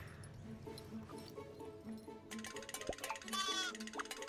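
Sheep bleat in the Spyro 2 Reignited Trilogy video game, a wavering bleat rising over busy game music and effects in the second half, fairly close and loud.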